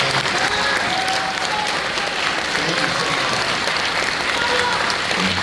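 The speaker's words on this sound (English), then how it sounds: "can you guys give me a round of applause?" Loud, sustained applause fills a school concert hall as the audience claps together, dense and even from start to finish, with faint voices mixed in.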